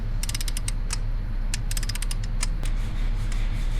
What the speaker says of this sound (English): I'm gonna move to the other side now, just to make sure we are torquing this down